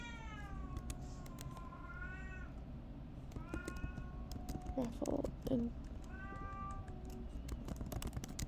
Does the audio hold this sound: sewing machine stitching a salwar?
no